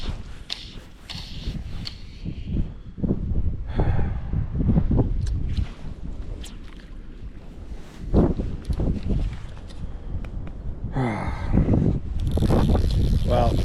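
Gusty wind buffets the microphone beside a lake during a fly fishing session, roaring in uneven surges with brief rustles and handling bumps, close and fairly loud throughout.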